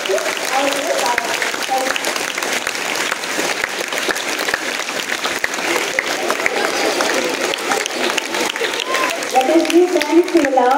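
Audience at a school event applauding steadily throughout, a dense, sustained crowd clapping with some voices and cheers mixed in, swelling slightly near the end.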